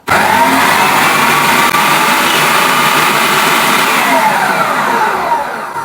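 A food processor whirs loudly as it purees mulberries for jam, a steady unbroken motor drone that tapers off slightly at the very end.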